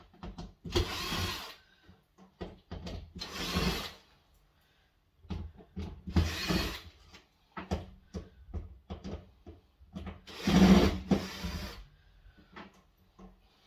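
Screws being undone from a tumble dryer during a scrap teardown, with repeated bursts of a power driver whirring and short clicks and rattles between them, close and fairly loud.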